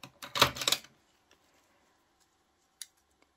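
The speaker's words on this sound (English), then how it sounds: "I'm going to cut a little bit of this" Scissors snipping magazine paper for a collage, a quick cluster of crisp close cuts followed by near silence and one faint isolated snip later.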